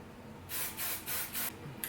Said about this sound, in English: So now I'm just gonna spray it.